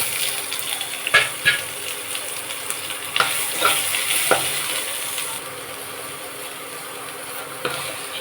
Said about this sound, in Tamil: இந்த அளவுக்கு வெங்காயம் வதங்கினா போதும்